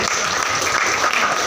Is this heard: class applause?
yes